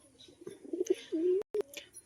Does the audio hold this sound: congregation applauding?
no